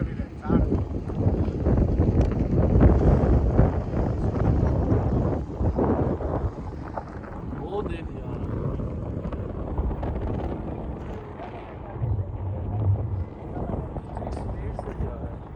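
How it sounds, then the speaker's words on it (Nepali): Cold wind gusts over a hilltop in Ras Al Khaimah near Dubai, a strong roaring rumble against the microphone that is loudest early and eases a little later, with voices faintly present. "एकदम चिसो हावा आएको छ, मस्त छ"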